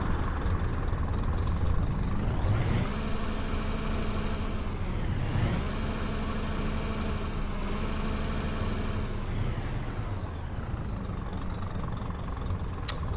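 A Scania Citywide GN14 articulated bus, simulated in OMSI 2 on Berlin line 115, idles then revs, its engine tone rising, holding and falling back in two smooth sweeps over a steady low rumble, with no talk.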